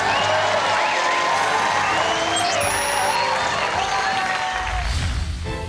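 A studio audience applauds and cheers a defending champion onto the Taiwanese quiz show 今晚誰當家之知識王; the steady, loud clapping runs throughout, with bright show music playing over it.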